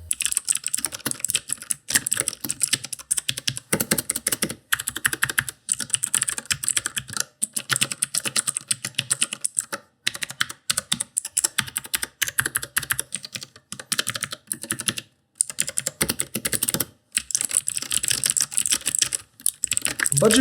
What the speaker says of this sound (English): here's a little demo of how this keyboard sounds with the blue switches on